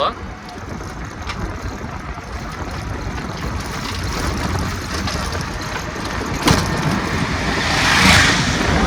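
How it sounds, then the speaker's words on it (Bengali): Loud, steady roar of wind rushing through a moving car, mixed with low road rumble that swells toward the end. "এখন আমি গাড়ি চালাচ্ছি, তো এই জন্য আমার গাড়িতে প্রচুর বাতাস, এখানে বাতাসের শব্দ"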